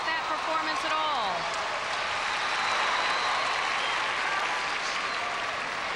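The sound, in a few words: gymnastics crowd applauding and cheering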